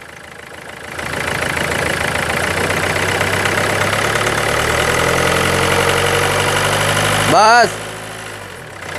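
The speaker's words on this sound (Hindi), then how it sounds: "कैसे रेस देने पे आवाज खड़खड़ खड़खड़ की आ रही है" Renault Duster engine with an oil-consumption and low-pickup fault, revving steadily with a rough rattle for several seconds, then a brief louder surge near the end; someone speaks over it.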